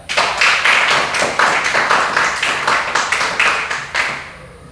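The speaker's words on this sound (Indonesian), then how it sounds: "Kita memberikan aplaus kepada kelompok 3." Students in a classroom clap for a group about to present, a rhythmic burst of hand claps falling into a quick regular pattern of repeated beats, loud and close, fading out at the end.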